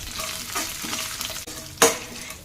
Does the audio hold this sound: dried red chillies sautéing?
yes